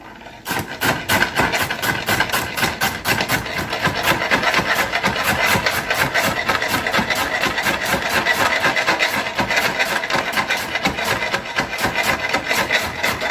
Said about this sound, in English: Boy, that's a noisy cutting board.